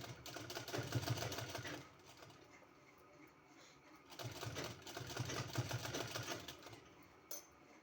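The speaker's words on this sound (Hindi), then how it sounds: "पूरे में इस तरह से सिलाई लगा देना है" A sewing machine stitching a neck design on a kurti, running in two quick rattling bursts separated by a quieter pause, close and fairly soft, with a brief click near the end.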